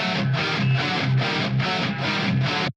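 Three layered rhythm electric guitar tracks play with heavy distortion, compression and EQ, sounding loud and dense with a steady pulsing chug that cuts off abruptly at the end.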